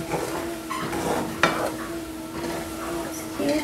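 A spoon stirring crab noodle soup in a pot on low heat: scraping, clinking strokes against the pot over a soft sizzle, close and steady.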